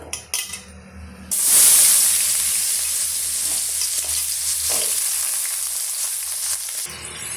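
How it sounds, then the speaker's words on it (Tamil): A brief clatter, then a loud burst of sizzling as potatoes hit hot oil over a high flame, settling into a steady, close, crackling sauté for the rest. "ஹை ஃப்ளேமில் வச்சு நீங்கள் வதக்கி விட்டுக்குங்க"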